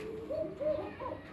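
Male pigeon cooing at a farm, a few soft, low rolling coos close by in quick succession, with no talk over them.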